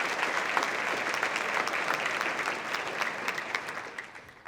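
Audience in a ballroom at a chamber of commerce annual meeting applauding nonprofits, steady dense clapping from many hands throughout, tapering slightly at the end.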